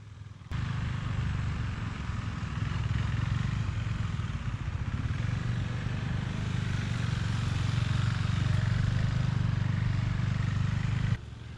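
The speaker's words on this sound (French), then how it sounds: "faire des cercles à l'intérieur de ce 40 pieds en descendant la moto" A motorcycle engine runs steadily for several seconds, droning at a constant pitch nearby while riding around, then cuts off abruptly.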